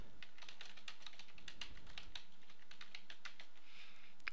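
Quick keystrokes on a computer keyboard while entering a group name in Windows 7, a close, quiet run of irregular clicks with no talking.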